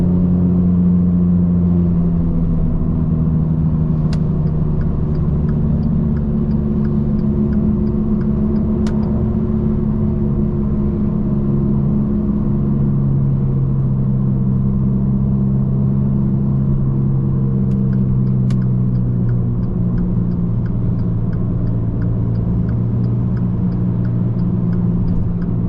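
2014 Dodge Dart GT with an automatic transmission, heard from inside the cabin while driving. A worn rear wheel bearing gives a constant low droning rumble under the road and engine noise, with faint periodic ticking.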